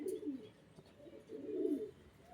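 A pair of fantail pigeons coos softly nearby, two low throaty rolling coos separated by a short pause, faint and alone.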